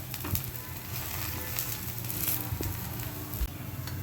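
Moong dal dosa sizzles softly on a hot pan as more oil is poured into a hole in the batter, a faint steady crackling hiss with a few small clicks and no talking.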